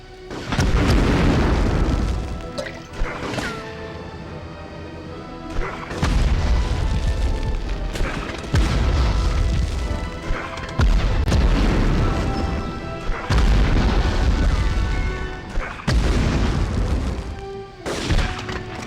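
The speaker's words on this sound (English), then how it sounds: "Just gonna grenade spam." Grenades explode in the 1999 Medal of Honor video game. Loud, heavy booms repeat every few seconds, each one followed by a rumbling decay.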